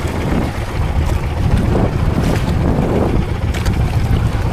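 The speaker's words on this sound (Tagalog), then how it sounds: "Umihip na naman ang hangin dito sa maalong karagatan." Strong wind roars across the open Pacific, buffeting loudly and continuously, with waves and the churn of a boat beneath the gusts.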